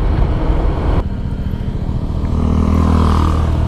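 Honda PCX 160 scooter on a test ride, its engine droning loud and close under steady throttle, with a brief dip in tone about a second in before the motor pulls on with a rising, even hum and road rumble.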